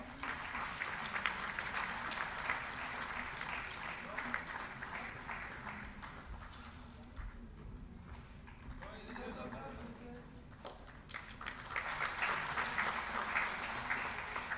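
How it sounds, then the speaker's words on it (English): A round of applause at a felicitation ceremony welcomes Shri Ajit Agarwal, Director Finance, with a steady crowd clapping that dips midway and then swells again, with voices heard under it. "Please welcome him with a round of applause."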